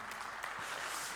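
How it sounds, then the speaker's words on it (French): A conference audience applauds, a brief dense wash of clapping at moderate volume with no voices. "Vous pouvez les applaudir d'ailleurs, n'hésitez pas."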